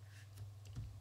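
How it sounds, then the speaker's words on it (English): A few soft, close clicks of computer keys being tapped during Photoshop photo retouching, scattered over a faint low hum. "hit B on the keyboard for my brush"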